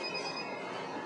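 A household phone rings steadily, a continuous electronic tone sustained through the whole short moment, fairly loud and clear with no talking over it.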